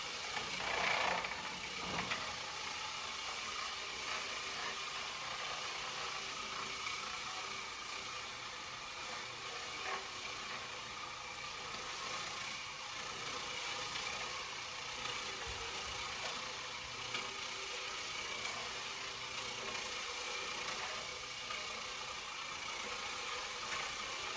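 An Oreck heavy duty floor scrubber runs on tile with a steady, fairly quiet motor drone and faint vibration, continuous and unchanging, with no voices over it.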